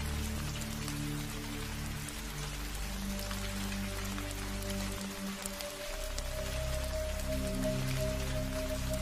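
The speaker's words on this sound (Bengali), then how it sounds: "আকাশ মেঘাচ্ছন্ন হয়ে আছে, গুড়ি গুড়ি বৃষ্টিও পড়ছে" A cartoon sound effect of light drizzling rain under an overcast sky: a steady, even patter that runs throughout, with sustained musical tones playing underneath and no voices.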